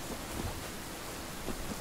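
Rain and thunder from the video game Cyberpunk 2077 form a steady hiss of downpour with a low rumbling undertone, fairly faint and continuous over the brief stretch.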